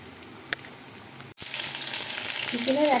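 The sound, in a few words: chili chicken deep frying in oil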